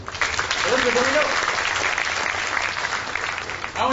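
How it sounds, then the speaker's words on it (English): Audience applause for a volunteer named Elizabeth at a mind-reading magic show, a steady dense wash of clapping that holds for the whole stretch and fades slightly at the end, with a brief voice underneath. "Nice round of applause for Elizabeth."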